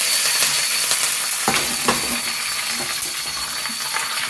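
Curry leaves and urad dal crackle in hot oil for a chutney tempering, a steady dense sizzle with a few sharper pops and spits throughout, close and fairly loud with no talking.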